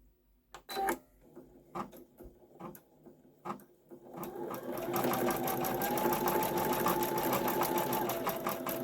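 Brother Skitch embroidery machine with a free arm and magnetic hoop, threaded from the front: a few sparse close clicks and taps, then steady, continuous rapid stitching that runs loud and even to the end.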